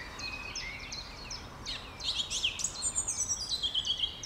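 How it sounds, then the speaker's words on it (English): Close by a canal-moored narrowboat, a song thrush sings loud, repeated bright phrases that grow busier and more rhythmic partway through over a quiet background. "listen, a song thrush"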